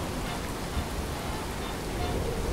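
Steady rain hisses in a video game as an even, dense wash of noise with no clear individual drops, constant throughout.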